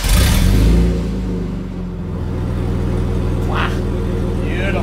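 A Nissan Skyline R31 engine with extractors and no exhaust fitted runs loud and close, a brief rev at the start settling into a rough, throbbing idle.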